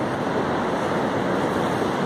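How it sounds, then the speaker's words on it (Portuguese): Storm-surge sea waves pound the beach at Itapoá, a steady, loud, close roar of churning surf mixed with wind buffeting the microphone, with no voices. "o mar avançou bem aqui nessa parte da praia aqui em Itapuá"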